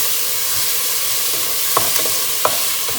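Malvani or biryani pulao masala and garam masala are stirred into a hot pan for shrimp rice, giving a steady close sizzle with a few sharp scraping clicks of the spoon against the pan.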